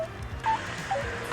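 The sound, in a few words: payphone call connecting tones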